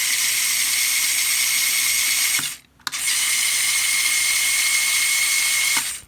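The motor of a Cada RC motorcycle toy runs with a steady, high-pitched geared whine. It cuts out briefly, restarts, then runs steadily again before stopping, with no speech over it.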